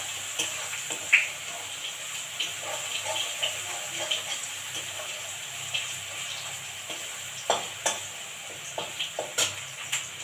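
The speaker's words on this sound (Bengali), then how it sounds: "নাড়তে থাকবো ঘন ঘন" A spoon or spatula stirs village-style desi chicken curry with garlic in a pan: soft sizzling under intermittent scraping strokes, quiet and close, with no talking.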